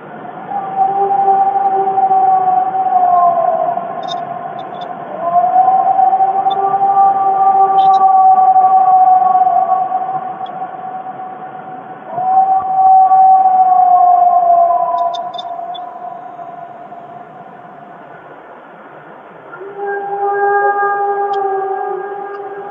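An alleged Bigfoot call recorded in the Mount Rainier area: long, loud, wavering howls with harmonics that rise and fall in several drawn-out phrases over steady background hiss.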